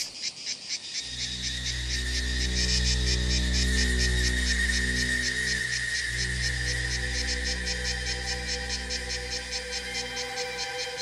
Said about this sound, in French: Les cigales annoncent le début de la sécheresse.